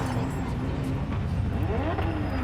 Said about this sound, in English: I thought there was a car outside my house.